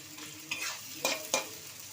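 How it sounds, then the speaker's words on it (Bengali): Garlic and onion fry in a pan with a soft, continuous sizzle, broken by three brief scraping stirs of a spatula across the pan's surface. "রসুন আর পেঁয়াজটা একটুখানি ভেজে দিচ্ছি"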